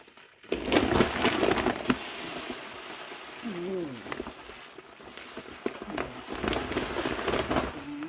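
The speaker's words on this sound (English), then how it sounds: "Go ahead and fill it with rice." Dry rice pours into a Cozyzone rice dispenser in bursts of gritty rattling and rustling grains, fairly close, with a pause in the middle before the pouring resumes; a voice is also heard briefly.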